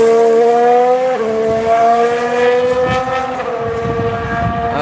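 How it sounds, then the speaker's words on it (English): A Formula 1 car during pre-season testing at Barcelona, a loud, close, high-pitched engine scream with clear harmonic tones that drop and climb again through gear changes, with no talk. "Got another car coming to the end of the pits"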